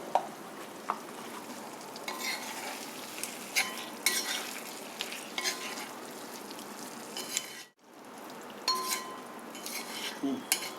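Chilli garlic chicken with curry leaves is stirred in a pan on a stove that is just switched off, a faint sizzle under repeated scrapes and clinks of a spoon against the pan, with one short break.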